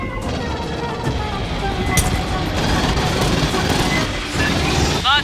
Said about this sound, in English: Gunfire must have drawn them.